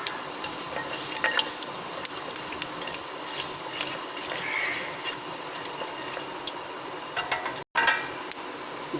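White cumin, half a teaspoon, sizzles in hot oil in a pan for aloo bhujia: a steady, close crackling hiss with faint clicks of stirring, nothing spoken.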